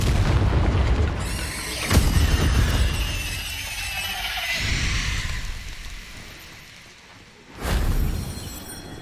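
Bombarda spell blasts in Hogwarts Legacy, a sharp booming explosion followed by a rumbling, sparkling tail and fading debris, then a second loud burst near the end.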